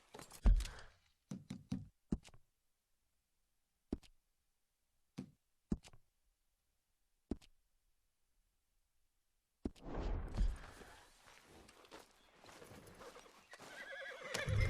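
A horse in the Red Dead Redemption 2 video game clip-clops with scattered hoof knocks and a brief whinny, followed by a longer stretch of louder hooves and movement toward the end.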